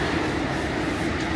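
Train rolling through a Tokyo station, a steady broadband rumble with low mechanical grind, close and continuous without a break.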